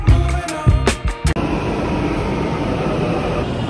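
A Delhi metro train at a station, heard as a loud, steady rumble with a hiss that fills most of the clip, following a few brief knocks and clatters at the start.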